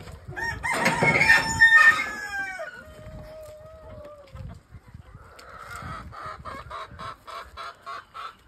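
Chickens on a farm: a rooster crows loudly and close with a long drawn-out call, then hens cluck in a steady, evenly spaced series that carries on to the end.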